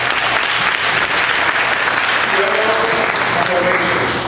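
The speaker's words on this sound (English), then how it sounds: "Give her a hand, clap." A church congregation applauds at a Sunday service, steady dense clapping through the whole stretch with a voice speaking over it.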